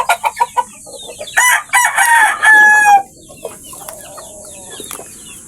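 A young stag rooster, tethered at a small backyard poultry pen, clucks in a few short bursts and then gives a loud, strained crow that breaks off, followed by softer clucks and faint background calls.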